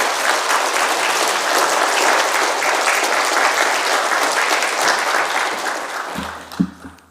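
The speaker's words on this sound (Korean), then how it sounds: "우리 박수로 목사님 맞이하겠습니다." During a Friday church service, a congregation warmly welcomes the visiting pastor with loud, dense, sustained clapping that tapers off at the end, with a few close thumps as it subsides.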